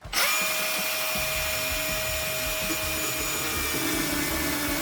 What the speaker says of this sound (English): I've got to go under the cabin with a chainsaw and cut off each of the legs